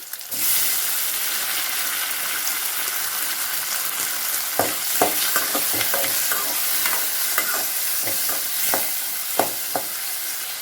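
Garlic and chopped tomato sizzle steadily in a hot pan while a spoon stirs them, with sharp scraping clacks recurring through the second half over a constant frying hiss.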